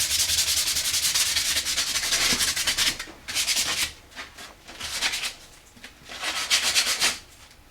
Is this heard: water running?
no